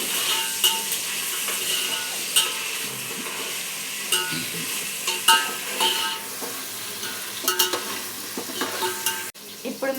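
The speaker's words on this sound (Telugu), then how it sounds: "వేసినాక ఒకసారి కలుపుకోవాలి. పచ్చి వాసన పోయేంత వరకు." Marinated chicken being stirred with garlic paste in a hot frying pan, steady sizzling broken by repeated scraping strokes and light clinks of a spoon against the pan, close and fairly loud with no talking.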